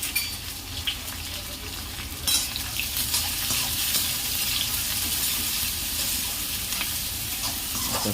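Onion sautés in a pan for a Konkani-style jackfruit vegetable dish, crackling and sizzling continuously and loudly with occasional stirring scrapes and a faint watery splash underneath, no voices.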